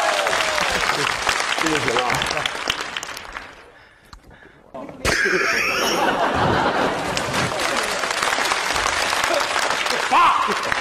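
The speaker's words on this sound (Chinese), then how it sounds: "掌声接一下" Studio audience claps and laughs during a comedy sketch about a father and son, broad clapping and chatter broken by a brief near-silent dip, then resuming loudly as someone speaks over it.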